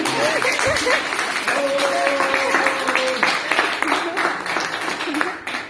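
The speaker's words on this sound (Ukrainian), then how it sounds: "Аплодисменти." An audience applauds steadily through the whole stretch, a dense, even wash of clapping from a crowd, while a voice talks over it.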